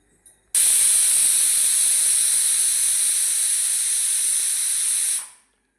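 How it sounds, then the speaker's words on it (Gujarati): A pressure cooker whistles sharply while cooking a potato and onion curry on a gas stove. The loud, high jet of escaping steam holds steady for about five seconds, then quickly tapers off into silence. "જો ચાર સીટી થઈ જઈએ આપણે હવે ગેસને બંધ કરી દઈશું"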